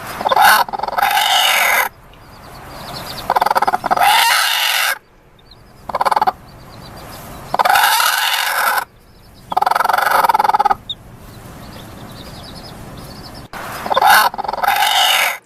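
A broody hen makes harsh, grumbling growls and squawks in repeated bursts, loud and close, with short quiet gaps between them.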